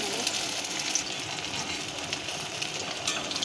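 Pieces for a meatless mock-fish recipe fry in hot oil with a continuous crackling sizzle, close and steady, carrying faint pops and no talk.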